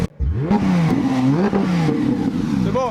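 A Porsche 911 GT3 RS 991 phase 2 starts with a sharp crank and catch, then its engine revs loud and close, the pitch rising and falling in repeated sweeps before a final quick blip.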